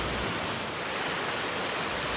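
A waterfall in Banff, Canada, roars as steady broadband rushing water, close and constant, with no voices or other sounds over it.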